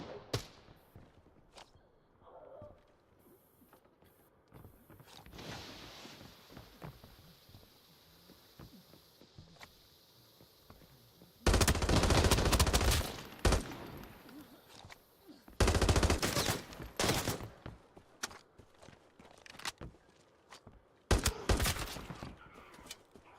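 Automatic gunfire rings out in the video game Arena Breakout Infinite, with three loud bursts of rapid shots separated by quieter stretches of footsteps and movement.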